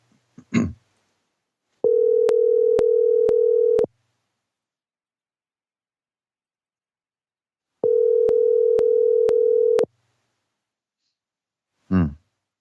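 Two bursts of a telephone ringback tone, each about two seconds long, separated by silence, with brief muffled noises at the start and end.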